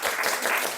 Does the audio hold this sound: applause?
yes